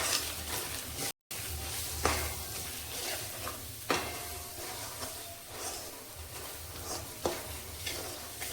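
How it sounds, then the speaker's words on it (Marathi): A masala mixture for paneer tikka masala being sautéed in a pan, a continuous soft sizzle broken by repeated scraping stirs of a spoon, close and moderately quiet with a brief dropout and no talking. "तर आता हे सर्व चांगले परतवून घेते।"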